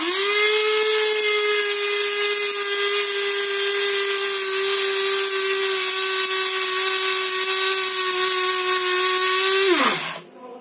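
Electric grinder powdering cumin seeds, a loud steady high-pitched motor whine running continuously for about ten seconds alone, then winding down sharply as it is switched off.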